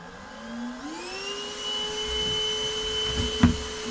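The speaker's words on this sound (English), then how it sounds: "That way I could have the vacuum over here and it's not really in the way." A shop vacuum spins up for removing bees from a shed floor, its whine climbing in pitch before settling into a steady drone, with a sharp knock near the end.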